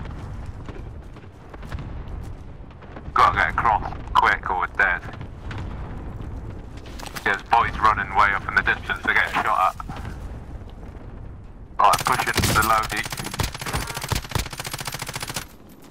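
Bursts of rapid video game gunfire rattle under excited talking, ending in a loud sustained barrage of shots and blasts.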